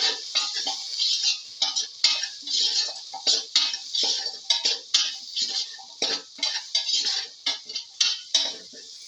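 Rhythmic clinking and scraping of a utensil against a bowl as scrambled egg, potato and fenugreek leaves are mixed, with steady repeated strokes close by and no talking.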